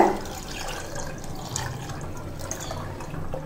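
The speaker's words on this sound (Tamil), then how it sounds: "நான் இப்போ 2 கப் அளவுக்கு தண்ணி சேர்த்துக்கிறேங்க" Water is poured into curd to make buttermilk, a soft, continuous liquid trickle and splash lasting a few seconds, close and moderately quiet, with no talking.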